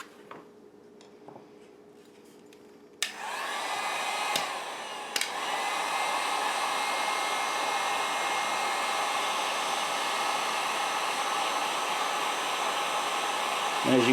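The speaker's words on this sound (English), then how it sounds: "with the heat gun here, I can show you" Heat gun switching on and blowing hot air over shrink tubing on a Mora Classic knife handle, a loud steady roaring whoosh that starts after a few quiet seconds and continues unbroken, close by.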